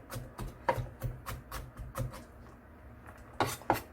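New-season garlic being chopped roughly on a board with a knife, a run of sharp, fairly close, irregularly spaced knocks, a couple of louder strikes near the end.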